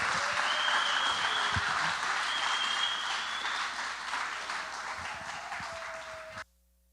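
A large conference audience applauds to welcome a speaker, with steady, dense clapping and a few whoops that gradually taper, then cut off abruptly near the end.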